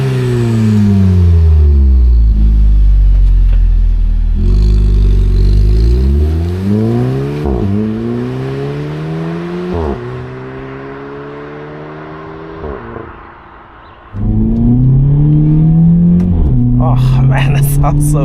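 A VW Polo GTI 6C with a 192 hp engine and seven-speed DSG accelerates hard, its deep note rising through repeated gear changes with sharp pops between shifts, loud and close from inside the car, with a voice briefly heard.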